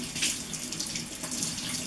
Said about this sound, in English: I'm going to rinse our butter in cold water.